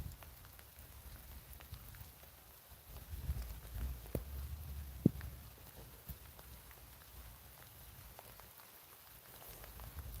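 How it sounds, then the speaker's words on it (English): Rain falls steadily during a thunderstorm in north-west England, a soft continuous patter with a few sharper drops standing out, heard fairly close and alone with no voices. "The rain's just started there in Doublet."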